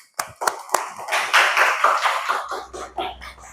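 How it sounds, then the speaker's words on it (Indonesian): In a seventh-grade classroom, pupils clap for their classmate Nadine: a few sharp separate claps first, then a louder ragged burst of many hands that thins out into scattered claps with a low hum behind. "tepuk tangan untuk Nadine"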